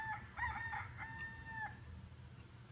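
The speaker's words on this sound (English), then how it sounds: "Was that our rooster crowing in the background?" A backyard rooster crows faintly in the distance, one drawn-out cock-a-doodle-doo with a few rising and falling notes over quiet room hiss, with no one talking.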